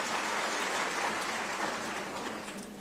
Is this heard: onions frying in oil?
no